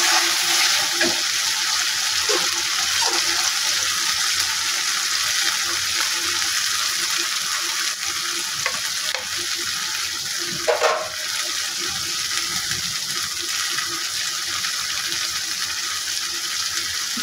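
Running tap water pours steadily while a bowl is rinsed in a kitchen during cooking of a pomfret fish recipe, a continuous broadband wash with a few small clinks, close and alone.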